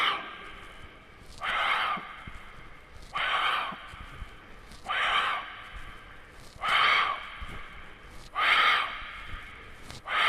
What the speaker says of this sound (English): stomach is pressing, breathe out more air